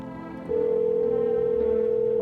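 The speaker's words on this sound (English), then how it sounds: "I can use the phone. We can call the neighbor." A telephone dial tone in a video game starts partway in and holds as a steady, loud electronic hum over faint background music.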